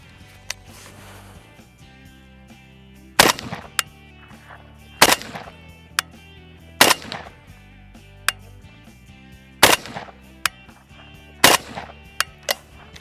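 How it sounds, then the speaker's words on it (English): A PSA AK-104 rifle fires single rounds outdoors, about six sharp loud cracks spaced a second or two apart with short echoes, plus a few smaller clicks between shots. "let's go ahead and take a few rounds of this rifle"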